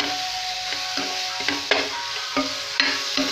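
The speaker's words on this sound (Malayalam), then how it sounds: "സിമ്മിലിട്ടിട്ട് ഇളക്കി കൊടുക്കാം" Carrot and sugar stirred in a pan on low heat for carrot laddu, with a continuous close sizzle and repeated scraping strokes of a spoon against the metal pan at an uneven rhythm.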